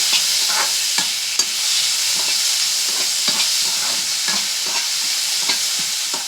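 Orange pieces are stirred in a frying pan for a sweet Bengali chutney, with repeated spoon scrapes and clacks over a constant soft sizzle, close up.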